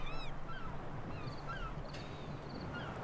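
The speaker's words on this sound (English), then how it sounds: "oh, listen to those seagulls" Seagulls call in the video game Raven: Legacy of a Master Thief, scattered short cries near and far over a steady bed of low harbour ambience and wind, with no speech.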